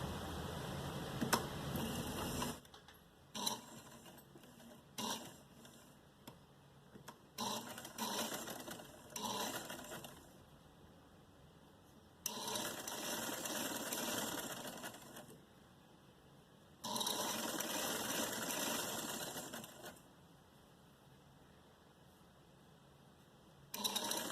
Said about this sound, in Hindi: इसको मैं यहाँ से इस तरीके से रख के यहाँ पे सिलाई लगाऊंगी।